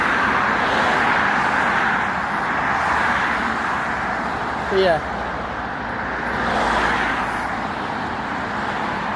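Road traffic on an urban street rolls past in a steady broad roar, with vehicles swelling and fading at moderate distance while a person talks briefly over it.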